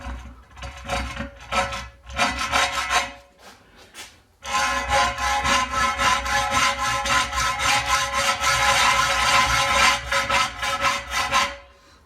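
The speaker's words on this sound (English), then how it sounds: "So I love using this old hacksaw. So let's have a go. I've got a very fine blade into this now." An old hacksaw with a very fine blade cuts through tough gauge plate in a slotter rebuild, giving rapid rhythmic rasping strokes up close, a few broken bursts first and then a long steady run of sawing.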